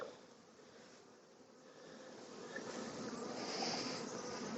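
A honeybee swarm hums inside a 3-frame box in a bee yard, a dense continuous buzz close by that slowly grows louder and fuller, with no talking over it.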